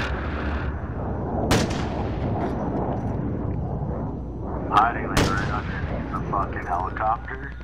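Call of Duty Warzone gunfire: two sharp, loud shots cracking out a few seconds apart amid busy game noise, with a player's voice talking in between.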